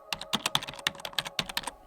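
Rapid, uneven typing on a computer keyboard, a quick run of crisp, close key clicks with a brief pause in the middle, heard alone with no voices.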